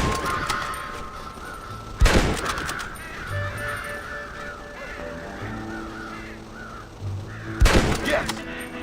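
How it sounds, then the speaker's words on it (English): Video game crows cawing among thuds and tonal game sounds, with two loud sharp bursts standing out and calls scattered at moderate volume. "God damn crows!"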